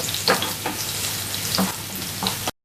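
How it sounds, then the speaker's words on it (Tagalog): Garlic sizzles and crackles steadily in hot oil in a pan, with occasional stirring scrapes, as it browns for a chicken and tomato stew. "So, brown naman natin yung bawang ng konti."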